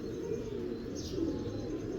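A pigeon of the gutt breed coos low and steady under constant background hum, a soft continuous rumbling call with no pause.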